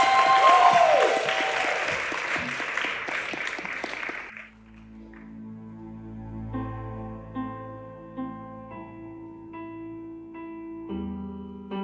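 An audience at the live semi-finals of a Welsh talent show gives loud, sustained applause and cheering for about four seconds, which then cuts to a quiet piano-like musical intro.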